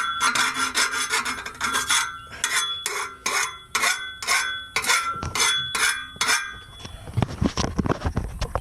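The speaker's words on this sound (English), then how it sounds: "Now that that's cut, you want to go through the file" A hand file rasps across the freshly cut edge of a steel exhaust pipe during a Mustang axle-back exhaust install, close-up rhythmic scraping strokes repeated about a dozen times, then quicker, lighter rubs.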